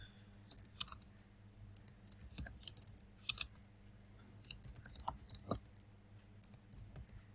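Fast, irregular clicking of computer keyboard keys while code is typed, bursts of crisp keystrokes separated by short pauses, close and fairly quiet with no talking.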